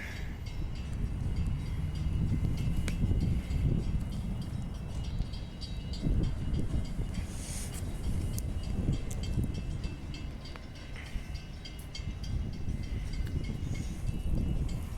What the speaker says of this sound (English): here comes our train to leave Beckenham Station.